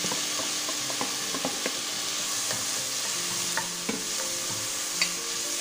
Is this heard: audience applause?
no